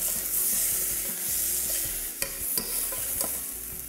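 Diced tomato cooking in a pan gives a steady, close sizzling hiss, broken by a few sharp scrapes and knocks as it is stirred.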